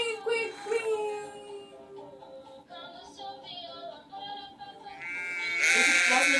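A sheep bleats in several wavering, drawn-out calls at close range, the last one louder and brighter, with some voice-like sound mixed in.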